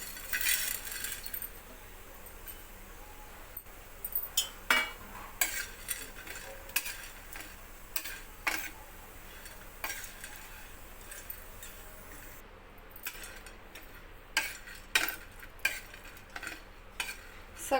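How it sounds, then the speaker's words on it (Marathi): Spices being dry roasted on a tawa over a gas stove, with repeated sharp scraping and clinking of a metal spatula against the pan over a faint steady sizzle, irregular strokes coming in bursts. "आपण आता हे सगळे जिन्नस भाजून घेणार आहोत"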